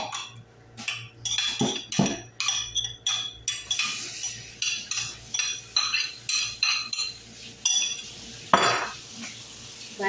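Mutton frying with onion, garlic, ginger and garam masala, cooked without water, under repeated rhythmic stirring with metal utensil clinks and scrapes against the pan over a constant sizzle.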